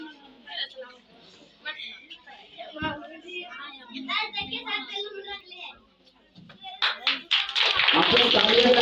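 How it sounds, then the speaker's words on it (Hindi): Audience at a children's award ceremony breaks into clapping, dense and loud toward the end after a stretch of someone speaking with scattered taps. "आप लोग तालियां लगाएं"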